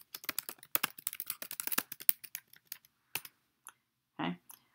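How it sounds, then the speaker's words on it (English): Keys clatter on a computer keyboard while text is entered into an Excel 2016 spreadsheet cell, a fast burst of close clicks that thins into a few scattered taps and a final short clack. "I start typing"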